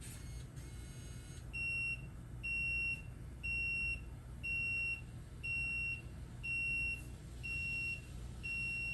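Repeated electronic beeps from an Anona Holo Wi-Fi smart lock anomaly alarm in a steady rhythm, about eight short tones over low background rumble, going off nearby.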